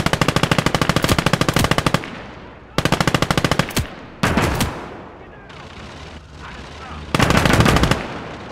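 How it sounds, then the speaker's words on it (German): Machine-gun fire in a WWII tactics video game set during Operation Lüttich: loud, rapid bursts of shots, stopping and restarting several times, with explosions and rumble in the gaps. "Maschinengewehr!"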